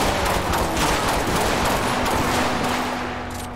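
Rapid gunfire in GTA 5, a dense burst of repeated shots running for several seconds at close range over a low vehicle hum, fading slightly toward the end.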